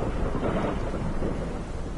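Heavy rain with rolling thunder in the horror video game Pacify, a loud, continuous roar of downpour and low rumble filling the whole moment with no voices.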